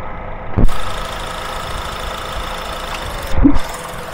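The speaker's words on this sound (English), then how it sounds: "That click was the engagement of the compressor, and now it is spinning" A Honda Accord engine idles steadily and up close while the A/C compressor clutch clicks in, with a sharp click near the start and another near the end over the running engine, and no talking.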